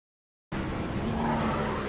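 A Ford race car at Martinsville Speedway screams at high revs, bursting in abruptly after silence and holding a loud, sustained engine and tire roar.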